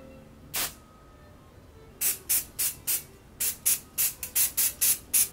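Short bursts of spray paint hissing from an aerosol can onto a person's body: one burst, a pause, then a rapid run of about a dozen quick, close, loud sprays with no talking.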